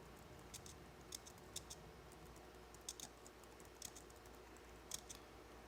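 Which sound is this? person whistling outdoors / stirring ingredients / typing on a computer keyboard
typing on a computer keyboard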